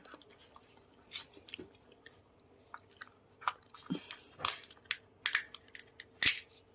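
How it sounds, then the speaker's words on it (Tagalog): A walnut is cracked open by hand with a tool, giving sharp, scattered crunching cracks and snaps. The cracks grow louder and more frequent toward the end, against a quiet background. "Paano magbukas ng perfect ng walnut?"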